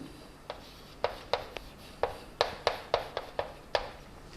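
Chalk or marker taps and strokes on a board during a chemistry lecture, a dozen short crisp clicks in an irregular rhythm, close and clear over a quiet room hum with no speech.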